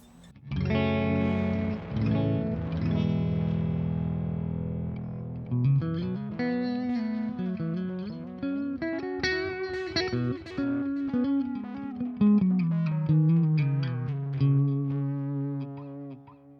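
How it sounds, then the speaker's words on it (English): A guitar run through a tape echo effect with tape saturation, sustained chords giving way to a melodic line of picked notes that repeat and smear into warm, slightly gritty echoes, played alone without talk. "just turn on this beautiful tape echo"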